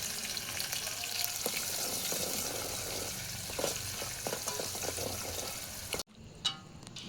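Tomato dropped into toor dal cooking over a wood-fired chulha, giving a continuous loud sizzle and bubbling hiss that cuts off abruptly near the end, followed by a few faint clinks.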